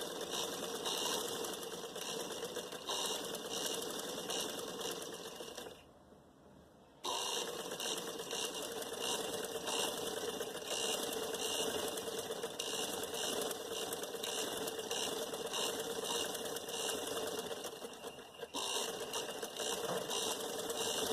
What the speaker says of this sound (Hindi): हमारी ये गेजिंग की दूसरी सिलाई भी कंप्लीट हो रही है।